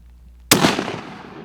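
A single loud rifle shot fired at an elk during a public-land hunt in Oregon, a sudden sharp crack after near silence, followed by a rolling outdoor echo that fades over about a second.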